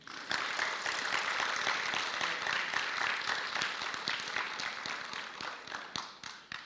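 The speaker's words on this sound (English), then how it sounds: "Graduates, please clap for your teachers, parents, families, and friends who helped you through your 4 years here." Graduates at a high school graduation ceremony clap for teachers, parents, families and friends, a sustained wash of many hands clapping that tapers off toward the end, fairly distant and even.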